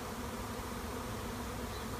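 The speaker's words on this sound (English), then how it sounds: "Oh, I love that sound. Look at the bees everywhere." A dense, steady buzzing of a large honeybee swarm, a low continuous hum filling the air without pause.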